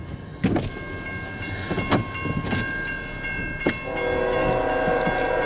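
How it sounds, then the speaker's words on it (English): An eastbound CN freight train with an autocarrier leading rolls past, giving a steady rumble with clanks and squeals from the cars and a sustained tonal whine, with no talking. "Is it a freight train? Yep."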